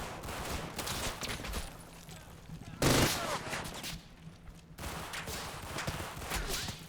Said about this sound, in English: That's not the bipod deployed MG42, is it?